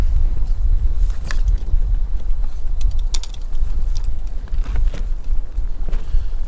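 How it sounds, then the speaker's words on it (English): Gusty wind buffets a wild camp beside Llyn y Fan Fawr in the Brecon Beacons, a loud low rumble with scattered clicks and rustles throughout, and no talking. "I wish this wind had died down a bit"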